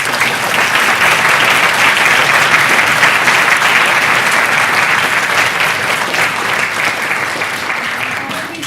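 An audience at a science debate applauds the panellists, producing steady, dense clapping that holds loud and even for several seconds before easing slightly toward the end.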